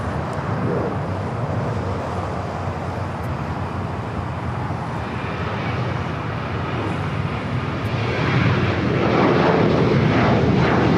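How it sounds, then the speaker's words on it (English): Alaska Airlines Boeing 737-800 taking off from LAX, bound for San Jose, Costa Rica: a steady, loud jet engine roar that holds throughout and swells slightly toward the end, with no talking. "Airlines 1352 taking off to San Jose, Costa Rica"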